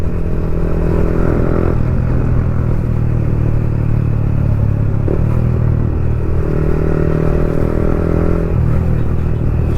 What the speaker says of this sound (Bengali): তাও গাইস প্রচুর ভাগাচ্ছে, এরাও ভাগাচ্ছে বাইক।